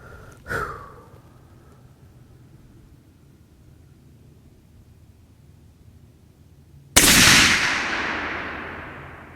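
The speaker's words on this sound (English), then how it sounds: "Let's go 1 more shot here in that top right corner." Two sharp, loud rifle reports from a 7mm PRC with a carbon barrel: a smaller crack early on, then after a long quiet gap a powerful blast whose broad boom slowly decays outdoors.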